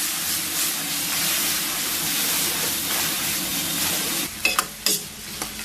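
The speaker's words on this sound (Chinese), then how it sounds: "这快手菜讲究就是速度，再给它捡回来，就是大火爆炒" Pork belly and vegetables stir-fried over high heat in a wok with chili sauce, soy sauce, salt and egg, a loud steady sizzle with hiss and steam, ending in a few sharp spatula clanks.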